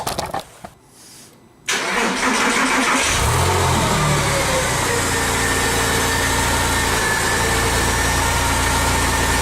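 A Porsche 996 with a freshly replaced alternator cranks briefly and catches after a short quiet pause, then settles into a loud, steady idle with a deep rumble that carries to the end.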